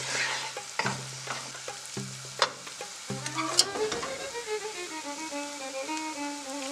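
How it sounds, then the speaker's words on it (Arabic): Flour being stirred into cooked mushrooms in a pot for mushroom soup: a wooden-spoon scrape and soft sizzle, with repeated clunks against the pot and a ringing metallic tap partway through. "منضيف معلقتين كبار من الطحين ومنحركهم شوي"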